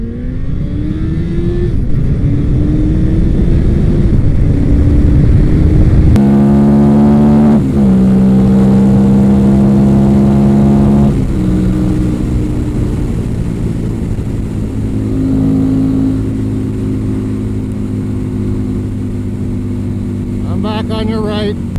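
A Suzuki Hayabusa and a Harley V-Rod accelerate hard, their loud, sustained engine drone climbing in pitch through several gear changes. Voices are heard over the engines.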